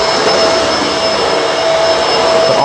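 Bissell Multi Clean Allergen Pet vacuum cleaner running loud and close, a constant roaring whoosh with a steady high whine, unbroken for the whole stretch and with no voices.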